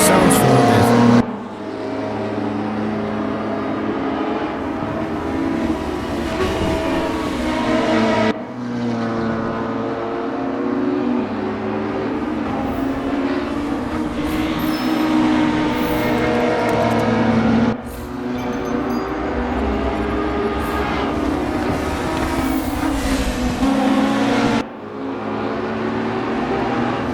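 A late-1990s Volvo S40 Super Touring car races at Brands Hatch in the Raceroom game, its engine droning steadily and loud throughout, rising and falling with brief gear-shift breaks in the tone.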